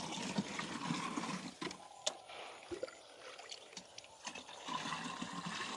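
Quiet, gentle water trickles and gurgles along continuously through a village irrigation canal into a field, with occasional soft splashes and bubbling, faint and close by.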